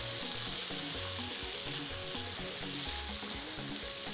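Onion and peppers fry in a pan and are stirred, making a soft, continuous sizzle with light stirring scrapes and no voices.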